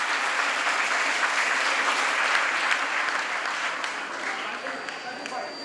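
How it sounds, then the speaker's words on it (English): Sustained applause from a large audience in an auditorium after a dance performance, a steady wash of clapping that holds for several seconds and tapers slightly toward the end. "So give a big round of applause to Anita Guha too."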